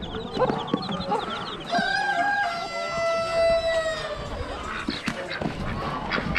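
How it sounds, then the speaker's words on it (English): Poultry at an Amish animal auction, where chickens cluck and a rooster crows in drawn-out calls at moderate distance, over a busy hall with murmuring crowd noise. "Chicken in a bucket with the babies."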